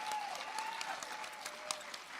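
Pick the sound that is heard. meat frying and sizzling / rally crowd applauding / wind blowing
rally crowd applauding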